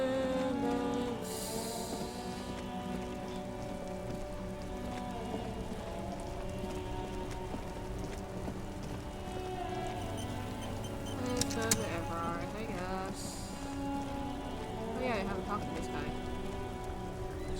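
Steady rain patters and drizzles as ambient game sound in Disco Elysium, a constant soft wash with a faint tonal music bed beneath it and occasional light clicks.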